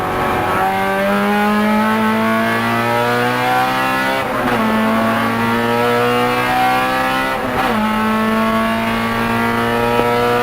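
Honda race cars in a small class run on a circuit, their engines holding a steady high drone with shifting, rising tones as they pass, loud and continuous throughout.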